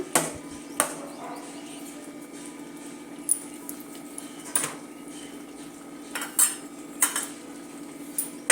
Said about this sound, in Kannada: ಒಂದ್ಸಲ ಮಿಕ್ಸ್ ಮಾಡಿ ಇನ್ನೊಂದು 5 ನಿಮಿಷ ಮುಚ್ಚಿ ಬೇಯೋದಕ್ಕೆ ಬಿಡೋಣ